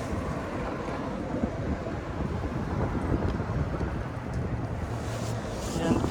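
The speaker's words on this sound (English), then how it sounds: "I don't know how loud that wind's going to be in the camera." Strong wind buffets a camera microphone outdoors during an inspection of an Okubo Factory R34 Skyline sedan, a continuous loud rumbling roar that fills the whole stretch, close to the mic.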